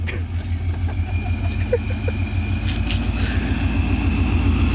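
A BMW 335i engine runs at a steady idle, a continuous low rumble close by with faint higher hiss over it.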